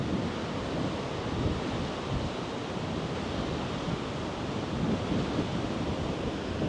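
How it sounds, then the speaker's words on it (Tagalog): Big ocean waves crash continuously along the rugged coast of Batanes while strong wind buffets the microphone, a dense, unbroken roar of surf and gusts with no voices. "pakinggan nyo lang muna yung hampas nitong mga malalaking alon na to. And then, yung hampas din ng medyo malalakas na hangin."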